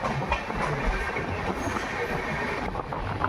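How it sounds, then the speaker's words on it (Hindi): The 22977 Jaipur Jodhpur High Court SF Express runs at full speed toward Merta Road, a steady rumbling roar with dense wheel clatter that stays constant and fairly loud throughout, with no voices. "ट्रेन अभी तक फुल स्पीड में मेड़ता रोड पहुंच रही है"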